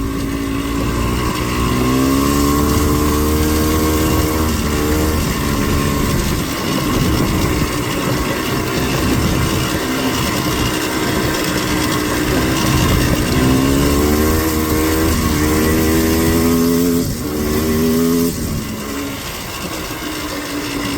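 Four-wheeler ATV engine run at full throttle, a loud, steady droning roar with pitch rising and falling as it revs, close up and continuous for the whole stretch.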